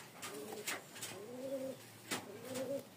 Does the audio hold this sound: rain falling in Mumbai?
no